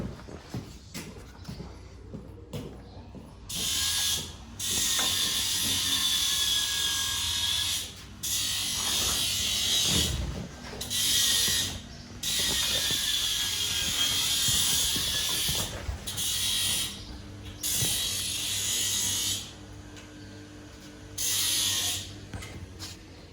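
Angle grinder working a steel horseshoe at a farrier's shoeing session, loud bursts of high whining grinding lasting a few seconds each, broken by short pauses, with no talk.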